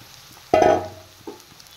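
Pasted chicken with grated ginger hits a hot pan in a short, close burst of sizzling, then settles into quieter frying with a soft stir.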